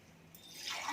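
Water pouring into a pan for kesari bath, a short close trickle that swells into a steady hissing stream by the end.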